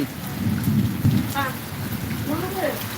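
Rain falling on a home courtyard, a steady close patter throughout, with voices and brief tonal sounds rising briefly above it.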